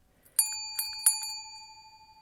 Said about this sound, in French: Pour indiquer le passage d'une partie à la suivante, vous pourrez entendre ce bruit de cloche.